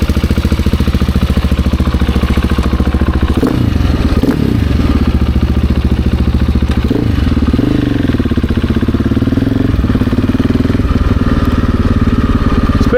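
A 2024 GasGas ES700 motorcycle fitted with a full titanium exhaust rides around Rockville, its engine loud and close with a steady throbbing rumble that rises and falls as the throttle changes, plus occasional clatter.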